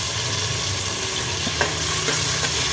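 Tomato being stirred into hot oil in a pan during cooking of mint rice, a loud continuous sizzle with occasional scraping clicks of the spoon, close and steady with no talking.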